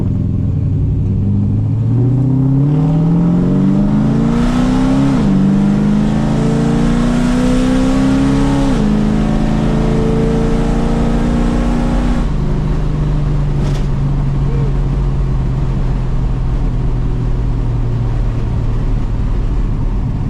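A car engine fitted with a Hughes Whiplash cam revs up and shifts through several gears, pitch climbing then dropping with each change before settling into a steady cruise; loud and close.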